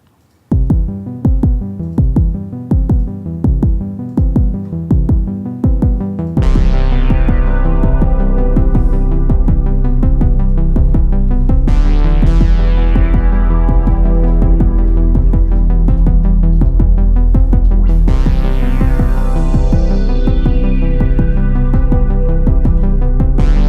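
A pre-recorded synthesizer plays the Stranger Things theme melody, loud and alone: a repeating pulsing arpeggio, then sustained chords that swell in three long waves.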